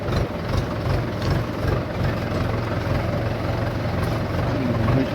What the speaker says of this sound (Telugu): అక్కడ వస్తాలు ఇంకో ట్రాక్టర్ వచ్చింది